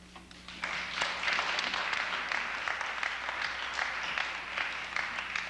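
Audience applause at a lecture hall talk, a dense, fairly distant patter of many hands that rises quickly and stays steady for several seconds without speech.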